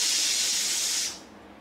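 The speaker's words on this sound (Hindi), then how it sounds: "हे मोर एटा सिटी आहिले" A pressure cooker whistles while chicken cooks: one loud, close, steady hiss of escaping steam that holds for about a second, then cuts off abruptly, leaving a faint background.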